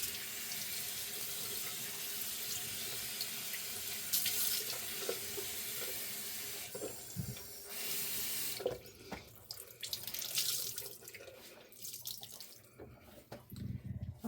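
A bathroom sink tap runs in a steady hiss of water, close and moderately loud, then breaks into splashing and irregular spatters as hands move under the stream, with no talking.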